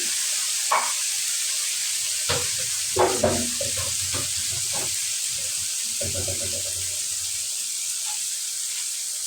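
Spice paste for a pabda fish curry with tomato fries in a pan with a constant hiss, punctuated by several close clattering stirs and scrapes of a utensil.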